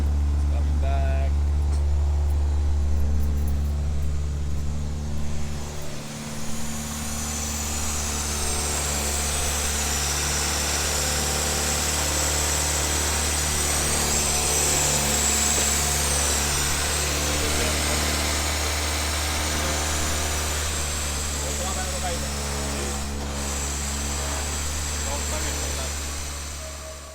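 A B13 Nissan Sentra built for turbo runs without its turbo parts while driving, giving a loud, steady, low engine drone inside the cabin that holds for the whole stretch.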